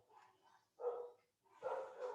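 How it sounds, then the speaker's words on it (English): Several dogs, including a big one, bark at a delivery driver at a front door, heard as three short, fairly faint bursts of barking with brief pauses between them and no talking. "Looks like the dogs want to kill the Amazon driver."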